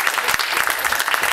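A theater audience at a live show claps in a dense, even burst of applause, steady and fairly loud throughout with a few sharper individual claps.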